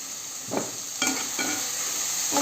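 Ridge gourd is stirred in a sizzling pan, with about four scraping sweeps of a spoon over a steady, close hiss of frying.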